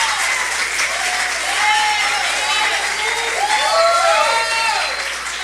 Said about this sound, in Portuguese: Se for para aplaudir, aplaude logo.